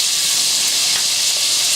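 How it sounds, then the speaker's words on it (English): A loud, steady sizzle of diced red onion and garlic frying in a hot skillet, a continuous bright hiss up close with no talking. "Nice sizzle to it."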